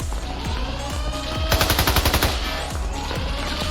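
Gunfire sound effect in an audio drama: several spaced single shots, then a rapid burst of automatic fire in the middle, followed by a few more scattered shots, all loud and close.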